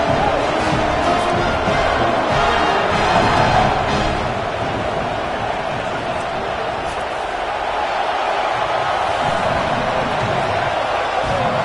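A home stadium crowd roars before kickoff of a Texas vs Ohio State football game, a broad, steady wall of cheering that swells early and then holds loud and continuous throughout.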